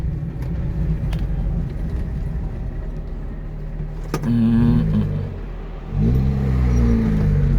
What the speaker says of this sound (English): This engine does have power.